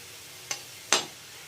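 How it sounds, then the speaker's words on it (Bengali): Finely chopped onions frying in oil give a low sizzle, broken by two brief scraping stirs of a utensil in the pan, the second louder, close and without talk. "দিয়ে দিলাম পেঁয়াজ একদম মিহি মিহি কেটে রিস্তা বানাবার জন্য এটা বেশ লাল করে ভেজে"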